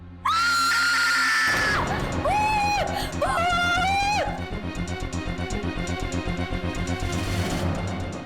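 A woman screams in fright, a loud, sustained, high-pitched shriek that breaks into several shorter wails, then gives way to a pulsing dramatic music bed in an indoor television drama scene.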